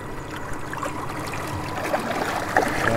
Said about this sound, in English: Now we're definitely moving some water.